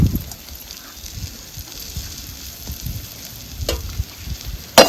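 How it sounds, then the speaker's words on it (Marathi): Green chillies dropped into rapidly boiling water bubble and hiss steadily and loudly, with a few sharper pops near the end. "पाणी चांगलं आधी खळखळून उकळून घ्यायचं आणि मग मिरची सोडायची"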